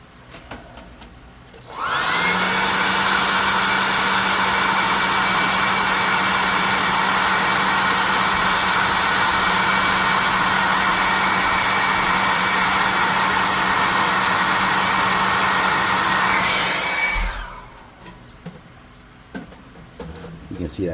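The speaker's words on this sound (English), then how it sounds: "Alright, I think we're good enough to set this down and hit this with the hair dryer." A hair dryer blows steadily on freshly painted tabletop miniatures, a loud, constant whooshing roar that switches on after a couple of seconds, runs unbroken for about fifteen seconds, then cuts off.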